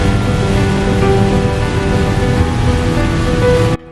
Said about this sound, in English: Kind of started raining hard again